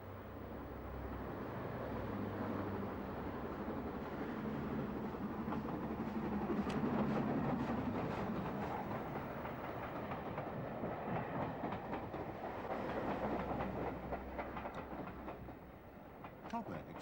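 An L.M.S. steam locomotive in 1930s maroon livery runs on the preserved Great Central Railway with a steady, moderately loud rumble and rail clatter throughout, while a narrator speaks over it.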